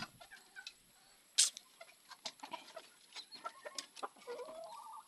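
Chickens cluck softly and intermittently nearby, with a sharp squawk early on and scattered bird calls in the background.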